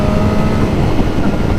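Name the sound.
BMW S1000R motorcycle with aero header exhaust revving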